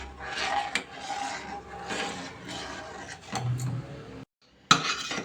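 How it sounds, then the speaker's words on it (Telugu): Custard is stirred in a pot on the stove: quiet, repeated rasping scrapes of a spoon across the pot bottom, with a brief silence near the end and then one sharp knock. "కస్టర్డ్ పొడి వేసాక కాస్త కలుపుతూ ఉండాలి, లేకపోతే అది అడుగు పట్టేస్తుంది కదా"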